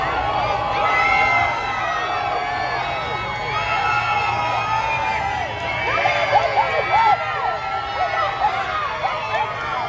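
A crowd in Miami cheers for President Trump, with shouts, whoops and excited voices layered into a dense, continuous, fairly loud outdoor hubbub.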